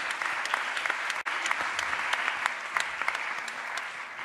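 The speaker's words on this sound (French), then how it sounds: "Virginie, on peut l'applaudir." An audience at a digital communication awards ceremony claps in a sustained, even burst, many hands blending into a steady roar with a few sharper individual claps standing out.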